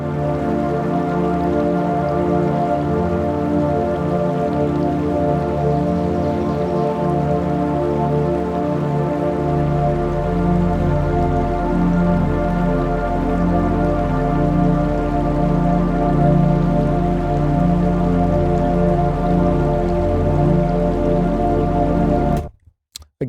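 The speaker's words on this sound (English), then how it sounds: "I can go ahead and mute that babbling brook sound" A babbling brook in an ambient relaxation music mix trickles and drips softly under a sustained, droning synth pad, running steadily before cutting off abruptly at the end.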